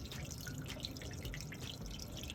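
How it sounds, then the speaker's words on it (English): Faint, steady trickling and gurgling of a kitchen sink draining, with soft drips, heard from a distance. "the sink is actually draining down there. We can hear it actually."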